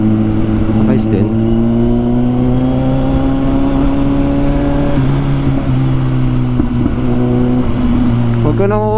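A Kawasaki Ninja 1000SX on a night test ride, its engine holding a steady, close drone with gentle shifts in pitch as revs rise and fall, and wind rushing throughout.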